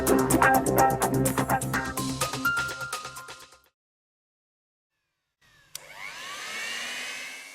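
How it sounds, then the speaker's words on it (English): A TRIAC BT plastic welding heat gun starts up with a sharp click and then blows hot air in a steady, fairly loud whooshing hiss with a rising fan tone, following a stretch of silence. "Within a short time, the TRIAC BT is heated up and ready for operation."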